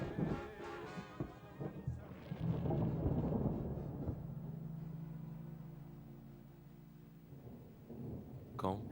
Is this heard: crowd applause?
no